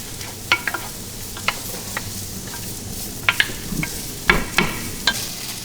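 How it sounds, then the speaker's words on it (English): Chopped onion frying alone in a pan of hot oil, a constant close sizzle broken by several sharp clicks and scrapes from a stirring utensil, with no voices. "got a pan of oil all hot and ready to go here, so I'm going to start right away with adding some onion"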